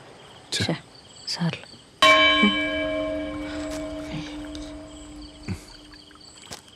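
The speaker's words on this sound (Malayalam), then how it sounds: "മേത്ത മണിയാ, ഇവിടുത്തെ ആൻസിസ്റ്റർ ക്ലോക്ക്." An old ancestral clock in a house strikes a single loud, bell-like chime that rings on and slowly fades over several seconds, after a few faint brief sounds.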